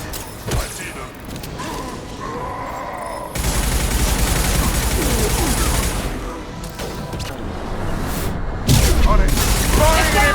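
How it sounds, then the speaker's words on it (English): Gunfire in the video game Mass Effect 2, including an impact shot: dense bursts of shots and booming hits run almost nonstop, loud, with someone talking over the firefight. "Firing an impact shot."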